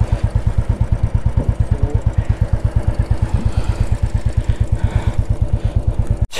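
A Royal Enfield Himalayan motorcycle engine running with a steady, rapid thumping beat and mechanical clatter, loud and close, then cutting off abruptly at the very end.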